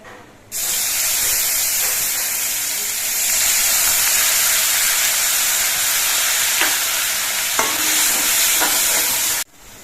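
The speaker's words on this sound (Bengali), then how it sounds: "এবার এই মশলাটা কিছুক্ষণ কষিয়ে নিতে হবে" A loud, steady sizzle of onion, green chilli and tomato paste frying in hot oil, with occasional stirring scrapes, close up and continuous.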